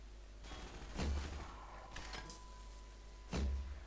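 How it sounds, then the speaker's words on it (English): Crossbow shots in Half-Life 2 come as two sharp, punchy thuds, about two seconds apart, with a lighter click and mechanical rattle between them, all at a fairly quiet level. "More crossbow shots."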